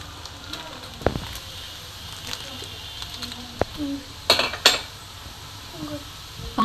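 Paneer biryani masala is stirred and mixed in a pot with a spoon, making irregular clinks and scrapes against the metal and soft wet shuffling, moderately close. Faint voices are heard in the background.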